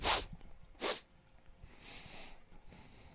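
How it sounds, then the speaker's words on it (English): Sniffling near a commentary microphone at a high school softball game: two sharp, close nasal sniffs followed by softer, breathy snuffles. "Sounds like you got a case of the sniffles going on over there."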